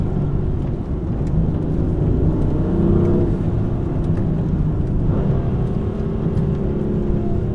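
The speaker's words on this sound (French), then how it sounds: "c'est là où on va voir un peu le freinage sur les épingles." A BMW M4 F82 with 431 hp drives through hairpin turns under braking, its engine a steady, loud low drone with slight rises and falls and no voices.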